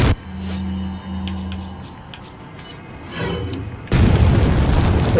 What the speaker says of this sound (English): he's not particularly smart, and we'll run straight into the bomb